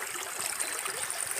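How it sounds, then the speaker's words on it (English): Water flowing in a small creek on an overcast, rainy day, a close, steady rushing and trickling wash with no voices. "Beautiful creek though."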